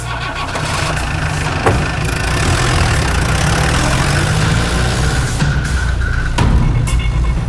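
A scooter engine idles in a continuous low, rumbling drone, loud and close, with a couple of brief knocks and bumps over the steady running.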